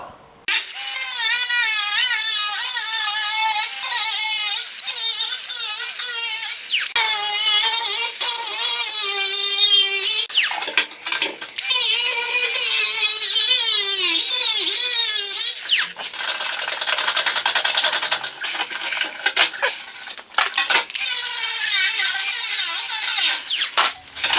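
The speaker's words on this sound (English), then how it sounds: "Now I'll cut this chunk out of here and we'll make a replacement part." Chunk of metal being cut from a Datsun body with a power tool, a loud continuous whining grind with wavering pitch that briefly drops out twice before resuming, no talk.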